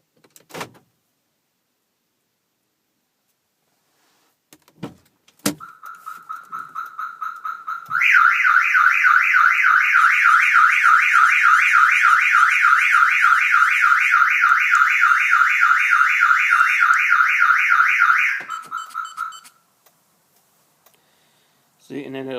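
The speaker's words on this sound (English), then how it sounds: "I will show you what it looks like when the alarm gets set off by opening a door." A Viper 5704 car alarm sounds after a few clicks and a door opening thunk: a steady rapid pulsing electronic tone for about ten seconds, loud and close, then it stops.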